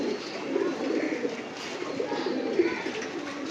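Pet pigeons of a prized breed cooing steadily in soft, repeated low coos, fairly close, continuing throughout with no talk.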